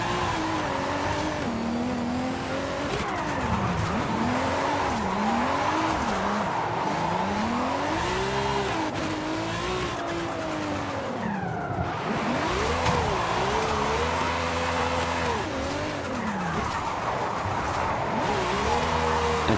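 A Ferrari Enzo drifting on a practice drift track in Forza Horizon 5: its engine revs rise and fall continuously while the tyres squeal and skid, close and loud throughout, with no talking.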